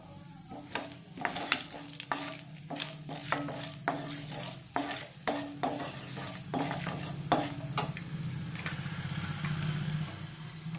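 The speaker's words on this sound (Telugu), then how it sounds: "ఇప్పుడు 1 స్పూన్ మినపప్పు, 1 స్పూన్ శనగపప్పు, 1/2 స్పూన్ ఆవాలు, 1 స్పూన్ జీలకర్ర. ఇవి బాగా ఫ్రై అవ్వాలి." Urad dal, chana dal, mustard seeds and cumin fry in oil as a tempering for fenugreek-leaf fry, with a steady sizzle and rhythmic clinks of a spoon stirring the pan.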